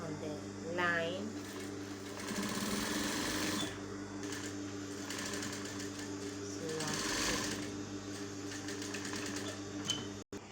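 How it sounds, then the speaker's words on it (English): Sewing machine stitching fabric onto a placket, a steady fast mechanical whir and hum running throughout with slight shifts in pace, heard up close and alone. "So it's doing the stitching right on the line."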